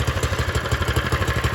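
A small Honda GX120 engine runs close by with a fast, even chugging pulse and metallic clatter, loud and steady with no voices.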